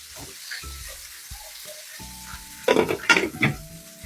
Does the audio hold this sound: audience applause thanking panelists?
no